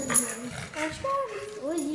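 A dog whimpers and whines with high, wavering tones while people talk nearby and over it.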